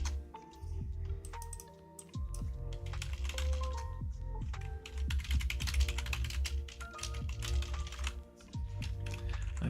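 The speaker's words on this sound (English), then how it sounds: "I apologise for this keyboard, by the way, it's very clacky." Typing on a clacky computer keyboard, rapid irregular key clicks in uneven bursts with brief pauses, close and fairly quiet with no talking.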